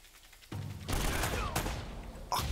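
Rapid gunfire in Uncharted: Drake's Fortune, a loud sustained burst of shots with a short louder blast near the end, no talking over it.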